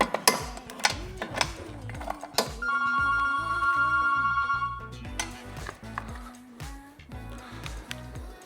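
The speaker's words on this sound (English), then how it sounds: "Phone always tends to ring when we're trying to film." A telephone rings several times in a garage during rear shock absorber work on a Land Rover Freelander 2, its steady electronic tone standing out over clanking tools and workshop noise.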